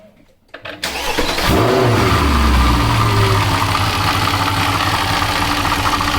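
A car engine fitted with a new drive belt and idler pulley, with a water pump pulley that still makes a little noise, cranks after a moment of near-quiet, catches with a rising roar, then settles into a steady, close, loud idle.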